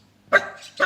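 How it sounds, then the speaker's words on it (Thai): A dog barks sharply twice near a wooden temple at a rural Thai monastery in Samut Songkhram, with a short gap between the loud, close barks and no talk. "ตอนนี้หมาเห่าผมใหญ่เลยฮะ"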